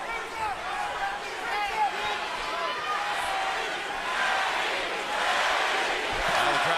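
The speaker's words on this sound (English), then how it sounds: "Now the crowd begins to chant Manny, Manny." Boxing arena crowd at the Pacquiao vs Bradley fight in 2016, a dense roar with rising and falling chant-like voices, steady and loud throughout.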